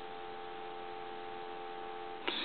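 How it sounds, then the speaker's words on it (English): Steady electronic dial tone from an A&E three-slot payphone fitted with a bell, a continuous even hum with no pauses, ending in a brief click near the close. "We'll give you some dial tone"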